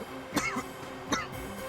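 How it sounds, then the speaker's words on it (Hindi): Two short, throaty coughs come about three quarters of a second apart, close and fairly loud over a low background hum, with no talking. "उन्हें ऐसे ही खांसी आती है।"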